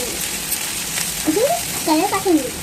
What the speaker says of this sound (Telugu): అన్నీ బాగా వేయించుకుందాం